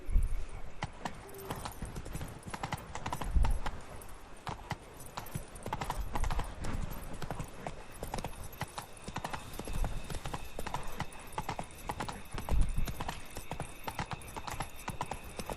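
Hooves of a horse named Roach clip-clop at a gallop across the ground in The Witcher 3 video game, a quick, steady rhythm with occasional heavier thuds and faint harness jingle, close and moderately loud.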